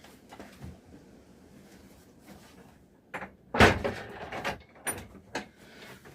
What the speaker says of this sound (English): a bit windy here today, door just flew open